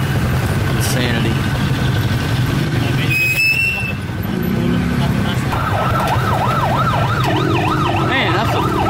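An ambulance siren passes through city traffic, its wailing, rising and falling tone growing clear and strong in the second half over a rumble of engines and road noise.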